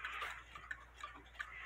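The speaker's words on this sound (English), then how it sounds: "Here's some personalized quarter hour cuckoo clocks." Personalized quarter hour cuckoo clocks ticking in a quiet room, several faint, evenly spaced ticks about every third of a second, soft and close with no voices.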